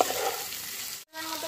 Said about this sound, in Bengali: দিয়ে এবার খুব ভালো করে এটার সাথে নেড়ে চেড়ে নেবো।